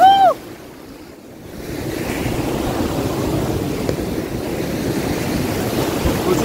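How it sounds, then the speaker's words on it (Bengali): Big waves at Puri beach on the Bay of Bengal at high tide, a loud continuous wash of surf and rushing water with wind across the microphone, swelling after a brief quieter lull near the start. "প্রচুর বড় ঢেউ আসছে।"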